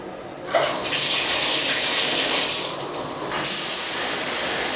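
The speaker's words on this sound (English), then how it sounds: "let's go ahead and turn on the water" Hotel bathroom shower in a Comfort Suites room in Altoona, Pennsylvania, turned on at full pressure, a loud steady hiss of spraying water that starts abruptly, dips briefly, then surges back and runs on alone.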